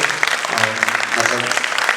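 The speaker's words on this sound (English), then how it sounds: "Keep on clapping, guys" An audience applauds a Bharatanatyam dance performance with a dense, continuous roar of clapping, loud and close, while a voice speaks over it.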